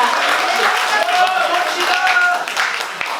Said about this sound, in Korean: 우리 멋진 남자분에게 다시 한번 따뜻한 박수 부탁드립니다